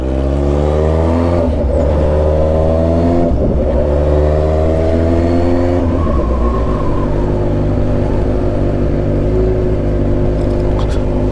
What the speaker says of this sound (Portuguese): moto tá fazendo esse barulho?